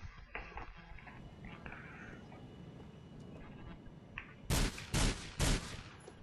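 Gunshots in the multiplayer video game GTA The Ballad of Gay Tony: a few sharp, loud bursts late in the clip over quiet game ambience, grouped close together after a calmer stretch.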